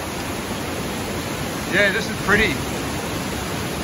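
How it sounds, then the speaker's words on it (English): Heavy flow at Westmorland Falls gives a steady, broad roar of falling water, with strong wind blowing through it and a person speaking briefly over the top. "I've never seen it with so much water flow in my life"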